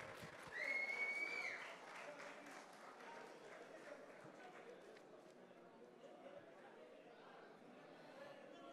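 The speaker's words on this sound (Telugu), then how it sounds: "గట్టిగా చప్పట్లు, కొంచెం ఇంకొంచెం" Applause rises from the audience for Mahesh Babu at the Quikon app launch, a burst of clapping that settles into a steady crowd murmur. A voice talks over it.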